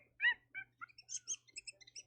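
Sped-up chimpanzee call with high, squeaky chirps like a mouse, a quick run of about a dozen short, close calls rising in pitch, no voice.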